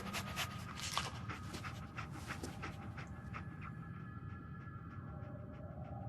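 In Fallout 4, the dog companion pants rapidly and sniffs while tracking a scent, a quick rhythmic breathing that stays close and continuous over faint low game ambience, with no speech.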